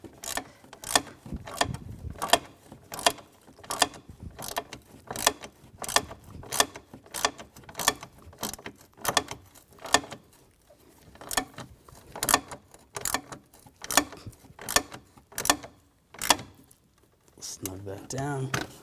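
A ratchet drives in the radiator screws on a 2010-2014 Volkswagen GTI 2.0 L4, giving close, rapid bursts of sharp clicks that repeat steadily, stroke after stroke, with no pause.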